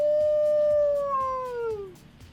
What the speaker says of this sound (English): I heard a wolf howl.